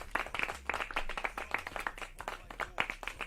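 Rhythmic hand clapping, a quick series of sharp close claps in an uneven beat, with a low hum underneath and no talking.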